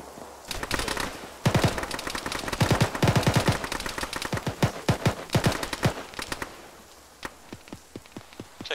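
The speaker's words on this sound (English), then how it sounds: "Taking some fire from the north." Gunfire erupts in an Arma firefight: dense bursts of rifle and machine-gun shots crack in rapid, uneven volleys, loud and close at first, then thinning into scattered, fainter single shots.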